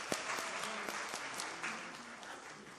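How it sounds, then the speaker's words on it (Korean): Church congregation clapping during a Christmas worship service, a short burst of scattered hand claps with a few sharper individual claps standing out, moderately loud, with no talking over it. "우리 준영이한테도 잘했다고 박수하고"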